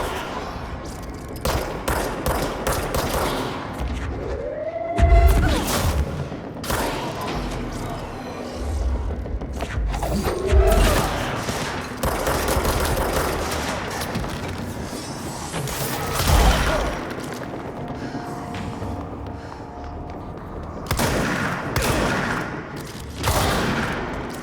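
Repeated gunfire bursts from shotguns in the video game Control, loud booms and cracks spread across the clip amid mechanical clatter and a dense, busy game soundscape.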